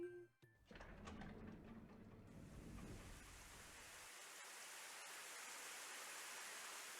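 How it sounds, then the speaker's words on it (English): Steady rain in the game Ame no Marginal, a dense, even hiss that swells in after a short muffled, rumbling opening and continues alone at a soft, constant level. "The first thing I could hear was the sound of rain."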